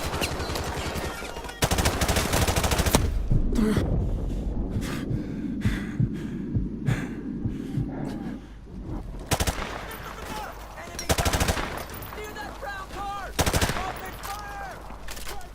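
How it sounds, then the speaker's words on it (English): Bursts of machine gun fire from a Modern Warfare Remastered campaign battle, the War Pig mission, rattle loudly in rapid strings separated by short gaps, with explosions and game noise filling the pauses. "You'll see there's a little bit more shooting, but nothing special."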